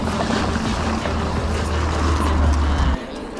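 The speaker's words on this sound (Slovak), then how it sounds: "trošku tu hučia auta" Car traffic hums steadily past an old, broken asphalt cycling path, a continuous low engine drone with a louder pass that cuts off sharply near the end, with no talking.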